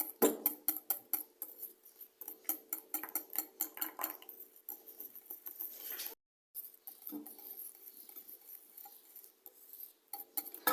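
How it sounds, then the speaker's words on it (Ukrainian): A spoon stirs a no-bake Cappuccino cake mixture in a bowl, giving a steady series of close, rhythmic clinks and scrapes against the bowl, with a short pause midway before the stirring resumes. "І тут будемо додавати потихеньку і розмішувати."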